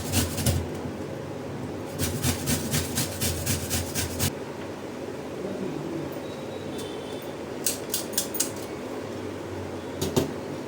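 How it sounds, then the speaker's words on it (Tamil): Pumpkin grated by hand for puttu, heard as quick rhythmic rasping strokes in short bursts with pauses between them, close and moderate over a steady background hum, with no speech. "அப்படியே இப்போது கேரட் மாதிரி பரங்கிக்காயை துருவி எடுத்தாச்சு"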